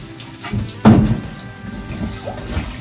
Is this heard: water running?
yes